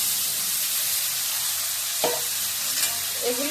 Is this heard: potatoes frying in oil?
yes